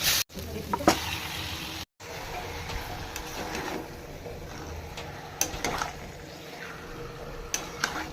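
Marinated chicken sautéing with spices in a pan, a steady low sizzle with intermittent stirring scrapes and occasional clinks, close and moderately quiet, with no talking.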